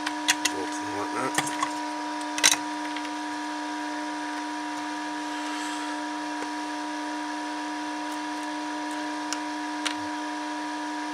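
Nuts and bolts rummaged by hand at an electronics bench while building an RF dummy load: a cluster of small metallic clinks and rattles early on, then a few isolated clicks, all over a steady electrical hum.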